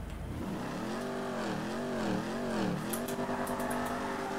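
Racing car engines in a video game rev up and down in repeated rising and falling sweeps, with a faint tire squeal. The engines sound moderately quiet and steady, and no voices are heard.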